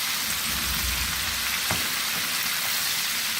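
Chicken popcorn pieces fry in oil over a medium flame, a steady dense sizzle and crackle with no voices.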